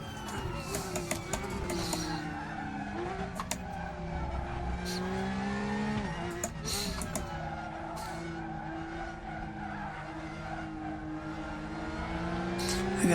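A Porsche race car in the Raceroom racing game drones loudly through a corner, its engine pitch rising and dipping while tires squeal and skid continuously.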